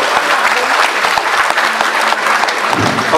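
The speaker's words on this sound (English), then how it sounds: "So let's give a big round of applause for Region 13." A big round of applause at a regional sports meet ceremony, loud dense clapping from a large crowd with sharp individual claps and thumps standing out, continuous throughout.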